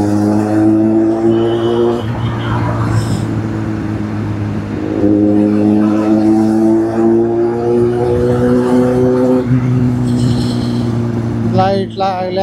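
On a night ride home through road traffic, a vehicle engine climbs in pitch through repeated gear changes, rising and dropping back several times, with a voice talking over it.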